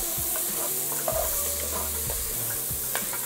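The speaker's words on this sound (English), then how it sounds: "We're gonna use these peppers and onions to kind of pull up this fawn on the bottom of the pan." Peppers and onions sizzle in a pan while being stirred to lift browned bits off the bottom, a loud continuous hiss with low scraping sweeps of the spoon throughout.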